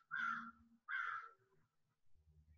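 Crows caw twice outside in a quiet cul-de-sac, two loud harsh calls close together near the start, followed by fainter low rustling and distant background noise.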